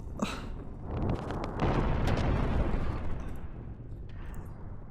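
A roaring blaze in the video game Xenogears: a broad rushing roar swells up, holds loud and steady with some crackly bursts, then fades away toward the end.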